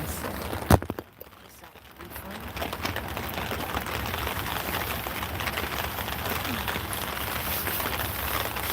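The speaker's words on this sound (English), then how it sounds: "Every time I say about the rain, it just starts." Steady rain falling outdoors at night, a continuous broadband hiss that swells in after a brief quieter moment near the start and then holds evenly, fairly close, with no talking.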